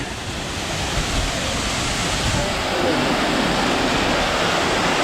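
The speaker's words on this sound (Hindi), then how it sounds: "ऊपर से पानी है वो नीचे की तरफ आ रहा है।" Steady, full-bodied rush of a large mountain waterfall on the Kedarnath trek, loud and close, a continuous roar with no breaks throughout.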